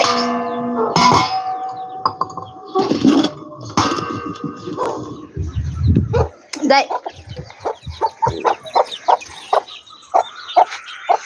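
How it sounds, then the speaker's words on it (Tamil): Chickens and a chick cluck and peep close by in a home yard, first mixed with people talking, then as a run of short, sharp clucks repeating quickly toward the end. "என்னது கோழியடா நம்ம கோழி குஞ்சு இன்னொன்று காணுமே"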